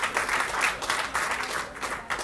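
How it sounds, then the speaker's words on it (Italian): An audience at a youth football match applauds with steady, dense clapping that swells and dips slightly, fairly close and continuous throughout. "Esce il numero 5 tra gli applausi del pubblico"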